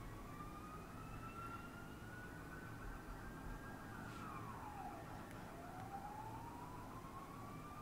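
A fire truck siren wails past at a steady distance, its pitch rising and then dropping as the vehicle goes by, over a constant background rumble of traffic.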